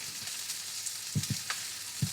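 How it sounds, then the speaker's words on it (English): Meat searing in vegetable oil in a hot pan, giving a quiet, steady sizzle with a few soft thuds and taps from stirring or turning the pieces. "There's a nice sizzle there, and yeah, we'll give them a couple of minutes on that side."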